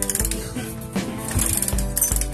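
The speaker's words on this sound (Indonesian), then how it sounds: "Nah, diengkol-engkol terus biar olinya naik." A seized motorcycle engine's kick starter is cranked over and over to draw oil up through the engine, giving a rhythmic series of close, loud mechanical clunks and ratcheting clicks with no talk.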